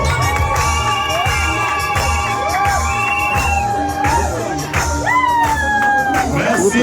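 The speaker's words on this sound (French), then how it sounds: "Vos acclamations pour encourager." A wedding crowd cheers, whoops and shouts for the bride, loud and continuous, with children's shrill voices and whistles rising above the din and a few bangs among it.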